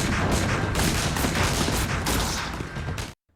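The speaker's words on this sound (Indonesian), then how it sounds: "David mulai melepaskan beberapa tembakan dan tepat mengenai pasukan Calderon." Bursts of rapid gunfire from a film shootout with soldiers, loud and dense volleys of repeated shots filling the clip before cutting off abruptly.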